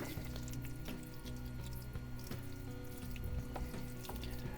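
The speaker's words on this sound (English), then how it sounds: "Little self-made watering can here, just to moisten the top" Water poured from a self-made watering can onto potted chilli seedlings: a faint, steady trickle and splash, quiet and continuous, with no one talking.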